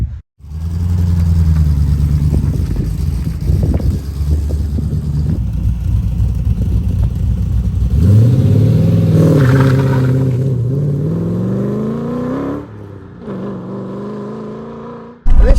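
A 270bhp V8-engined Triumph Toledo drives and accelerates, its engine droning steadily from inside the car, then revving up through rising pitch before easing off near the end.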